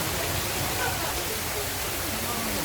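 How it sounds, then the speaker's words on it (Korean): Water spills and drips steadily at a Korean restaurant built with a valley-style water feature, making a constant close splashing hiss with no pauses. "현장에선 저렇게 물이 뚝뚝 떨어지고요"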